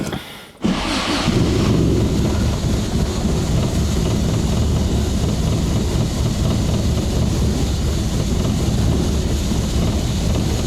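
A 1972 Toyota Celica engine with Mikuni 40PHH carburetors fires up after a brief pause and settles into a loud, steady low idle around 500 RPM, droning continuously with no talk.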